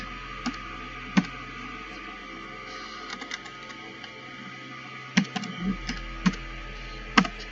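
Commands being typed on a computer keyboard, a few separate key clicks and taps spread out over several seconds, close and quiet against a low background hum.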